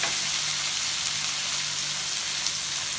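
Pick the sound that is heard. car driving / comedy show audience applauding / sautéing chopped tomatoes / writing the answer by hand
sautéing chopped tomatoes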